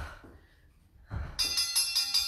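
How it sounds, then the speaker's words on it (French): A small electronic timer chime marks the end of a home workout interval, a bright repeating ring pulsing several times after a quiet pause and a soft thud. "je ne sais pas si vous avez entendu la petite sonnerie de là où vous êtes"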